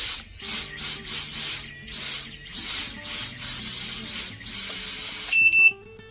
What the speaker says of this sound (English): This one here will arm the motors and they will just be spinning and idle pretty much.